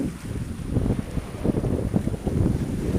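Strong wind rumbles and gusts across the microphone on open water off Corsica, with a restless low roar and faint wave wash beneath.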